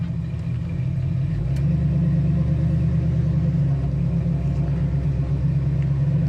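A 1968 Chevrolet Camaro SS 396 V8 idles steadily at about 700 RPM, with a loud, close, continuous low rumble and an even lopey throb and no talking.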